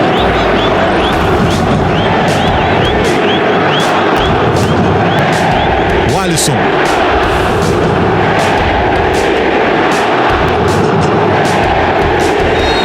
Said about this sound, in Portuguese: O pessoal tá xingando bastante o técnico do Cruzeiro.